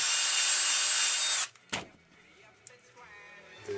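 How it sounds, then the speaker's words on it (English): A power drill bores into a short wooden branch piece for a beach tree craft in a home workshop, whining loud and close for over a second, then stopping with a few clunks and soft handling noises. "try to drill in the middle"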